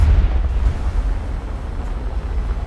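An HF-24 jet in War Thunder fires its rocket pods in a single five-rocket salvo, producing a loud, deep, sustained roaring rumble that stays heavy throughout.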